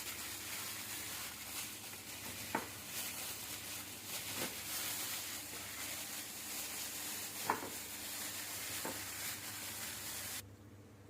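Chicken being mixed by hand with egg and spices for a marinade: a steady close, wet squelching and rubbing texture runs throughout with a few sharp clicks, no talk.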